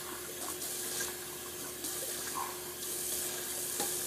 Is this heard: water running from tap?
yes